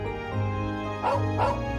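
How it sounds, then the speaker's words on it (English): A canine cry from a wolf in Trails of Cold Steel 2 rises twice in quick succession, short and fairly loud, over a steady droning game soundtrack. "Wolf howl."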